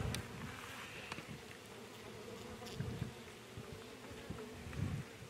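Honey bees swarm densely around a hive, their buzzing a steady close drone with occasional louder passes as individual bees fly near; no one speaks.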